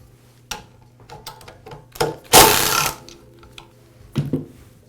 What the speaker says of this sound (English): I'll begin by removing the motor end cover. It's held in place with a couple of screws.